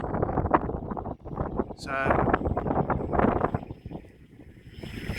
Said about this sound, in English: It's not the ideal conditions in this wind